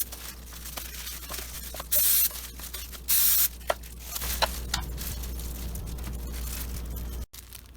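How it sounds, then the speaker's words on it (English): Two short, loud bursts of spray from an olive oil mister hit tortillas, separated by a brief pause, with faint kitchen clatter and handling noises around them. "I'm going to try to save some time by just spraying on olive oil to one side."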